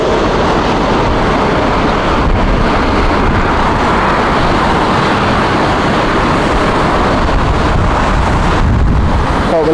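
Strong crosswind roars continuously across the microphone at Heathrow Airport, a dense, buffeting rush of noise that stays loud throughout with gusty swells and no clear voices.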